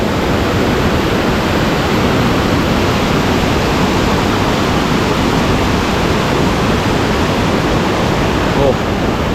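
Tad Man waterfall in a small rural village in southern Laos, a dense, loud, unbroken rush of falling water close by, steady throughout with a faint voice beneath the roar.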